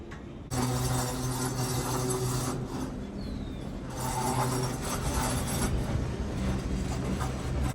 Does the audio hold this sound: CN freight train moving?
yes